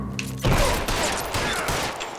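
Gunshots from LA Noire ring out in a loud, close burst followed by a dense, sustained volley of fire that tails off slightly.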